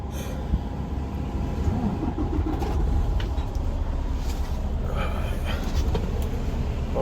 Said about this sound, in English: so we just gonna turn on the truck for a little bit